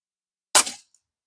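A single sharp crack from a PP100 Chimera air rifle fired at a long-range target, close and loud with a quick fade and no voices.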